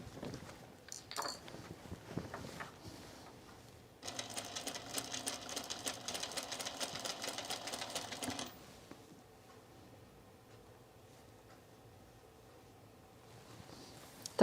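A sewing machine stitches a dress slowly with a shorter stitch length, a faint rapid ticking run lasting about four seconds between quieter stretches of small handling noises.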